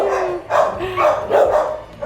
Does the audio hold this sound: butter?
no